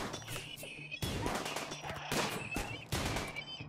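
Rapid gunfire during a RimWorld colony battle, several sharp bursts close together with dense crackling shots and a steady low hum beneath, moderately loud throughout.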